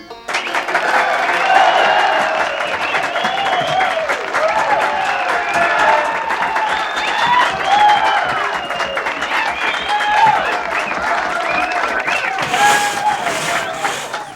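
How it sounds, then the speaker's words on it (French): Sustained audience applause with crowd cheering in a 1992 Lucky Luke cartoon episode set in Daisy Town, a dense steady roar of clapping and shouts lasting throughout, loud and close. "Tu entends, ils applaudissent."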